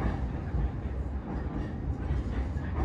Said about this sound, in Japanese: 列車は秋葉原駅に向かっていきます